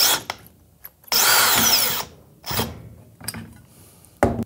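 A power drill driving screws into decking boards during terrace construction, short bursts with one long whirring run, separated by quiet pauses and brief rubbing handling noises.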